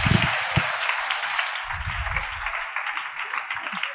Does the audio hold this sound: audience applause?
yes